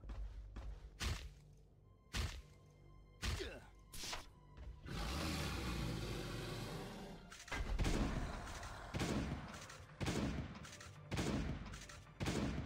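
Sharp gunshots crack out in a rapid, irregular series in the game Last Day on Earth: Survival, with a sustained noisy burst in the middle, loud and close, with talk in between.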